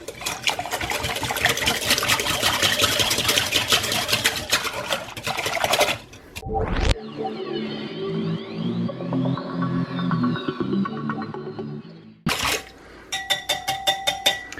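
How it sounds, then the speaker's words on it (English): Waffle batter of vanilla and other ingredients is hand whisked in a bowl, a dense, steady clatter of whisk against the bowl for several seconds, broken by a brief pause and a scraping sweep, then resuming in quick rhythmic strokes. "next thing you want to do is give this a good old whisk"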